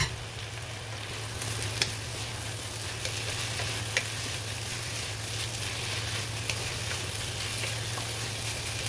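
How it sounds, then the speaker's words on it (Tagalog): Sliced chicken hotdogs with cheese fry in a pot for creamy chicken sopas, giving a steady soft sizzle with a low hum beneath and a few faint clicks of stirring; no speech. "Ito po, chicken hotdog with cheese. Para medyo mo-fry din siya."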